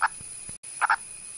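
Indian purple frog calls sound as brief clucking croaks, one at the start and a doubled one near the end, close and distinct over a faint hiss with a short dropout between.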